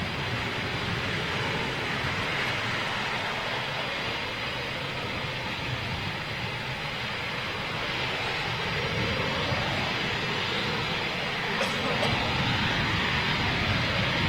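Eurofighter Typhoon jet engines running at RAF Coningsby, a broad steady roar with a higher whining note over a rougher thrashing rumble, loud and continuous throughout with no voices.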